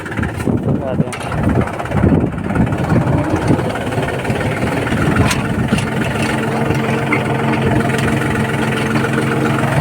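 A steady Girnar 4 mini tractor engine rumbles and idles throughout, low and continuous, with a voice talking over it.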